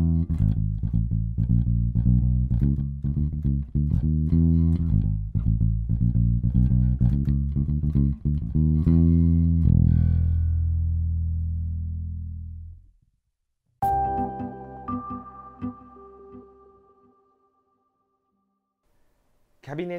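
Electric bass played through a HOTONE Thunder Bass compact amp via its headphone line output, a run of punchy plucked notes ending in a long decaying low note, then a few brighter harmonic-rich notes, close and dry with no talking.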